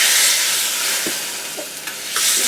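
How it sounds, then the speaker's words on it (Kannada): Mustard seeds and asafoetida hit hot oil in a small tempering pan for radish sambar, a loud close sizzle with a few sharp crackles and pops as the seeds burst. "ಎಣ್ಣೆಗೆ ಇಂಗು ಮತ್ತು ಸಾಸಿವೆ ಹಾಕೋಣ."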